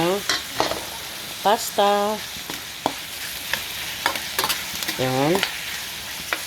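Ham fries in a pan for pasta carbonara, a steady sizzle with occasional stirring clicks running under a voice that speaks intermittently throughout.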